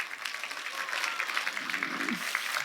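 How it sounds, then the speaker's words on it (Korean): Warm applause from a seated audience at a talk by a lawyer newly returned to Geochang, steady, dense clapping throughout with a brief low murmur near the end. "따뜻한 응원의 박수 한번 부탁드리겠습니다"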